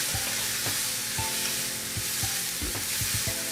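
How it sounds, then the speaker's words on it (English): Onion sautéing with tamarind concentrate in a pan, a steady close sizzle with regular scraping stirs of a utensil throughout. "I'll saute that all together until the onion is soft."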